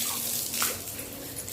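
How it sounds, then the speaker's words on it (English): Water runs steadily from a tap during a bath for Max, a golden retriever, making a close, continuous broadband splashing rush with no pauses. "It's time to give a bath to our Max."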